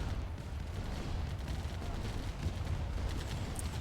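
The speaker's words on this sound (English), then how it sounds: "Tanks being killed." A battle in the Command & Conquer Remastered video game as tanks are destroyed amid gunfire, heard as a dense, continuous roar of overlapping shots and explosions at a steady loudness for the whole stretch, with no talking.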